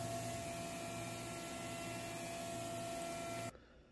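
A CNC mill machining a new brass spindle nut runs with a steady whirring hum and fixed tones, then cuts off abruptly near the end, leaving quiet room tone; no one speaks.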